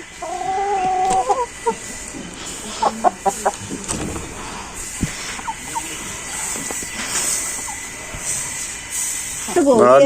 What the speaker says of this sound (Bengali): এখানে অনেকগুলো মুরগি আছে